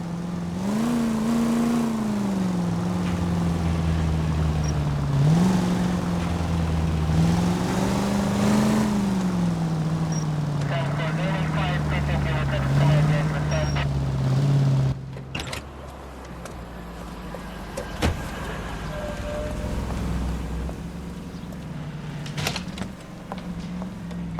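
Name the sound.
car driving, from the video game L.A. Noire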